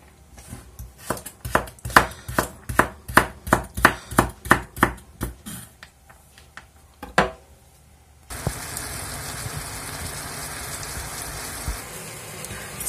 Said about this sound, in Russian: Теперь нарезаю лук.